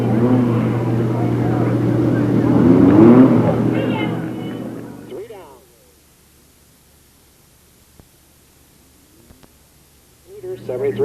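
Stock cars circling under a yellow flag down the front straightaway at Delta Speedway in 1996, their engine roar and rumble loud and steady for about five seconds with voices over it, then near silence before the noise returns at the end.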